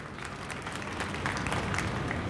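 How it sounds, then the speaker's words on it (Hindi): Applause from an audience at a Hindi-language public gathering, a steady wash of clapping held at an even level for the full stretch, with no voices over it. "जोरदार तालियां उनके लिए भी।"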